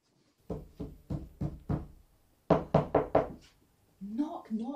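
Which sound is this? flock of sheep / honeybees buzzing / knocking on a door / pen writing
knocking on a door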